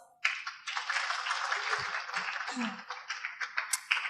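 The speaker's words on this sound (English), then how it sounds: "Once again, give Mr. Aribam applause." Audience applause at a talk on science and spirituality, a burst of clapping from a modest crowd that starts abruptly, holds steady for a few seconds and then thins into scattered individual claps, with a brief voice underneath.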